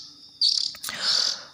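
A 13-day-old oriental magpie-robin chick gives short, shrill high-pitched chirps, one sharp burst followed by a longer call, close by against a quiet background.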